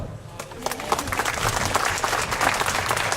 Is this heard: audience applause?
yes